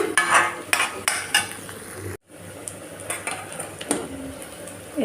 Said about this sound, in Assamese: আদা নহৰু কেঁচা গন্ধটো যোৱালৈকে পুনৰ অলপ দেৰি ভাজি ল'ম